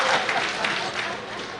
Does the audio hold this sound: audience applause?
yes